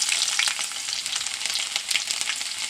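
Mustard seeds, finely chopped ginger and garlic sizzle and crackle steadily in hot oil while making mango pickle, a close, dense frying hiss with scattered pops and no talking.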